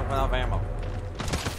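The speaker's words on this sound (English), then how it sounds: "They're shooting me from the trees!" Bursts of video game gunfire crackle briefly in a match, with a voice talking over the start and a short volley of shots near the end, fairly quiet overall.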